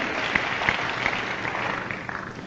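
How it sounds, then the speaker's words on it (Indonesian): A church congregation at a Pentecost sermon during a leadership-training worship service bursts into applause, a sustained patter of many hands clapping at close range with a few sharper claps standing out. "Dengan tepuk tangan saudaraku,"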